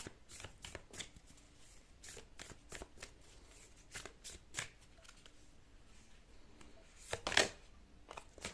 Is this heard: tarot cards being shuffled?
yes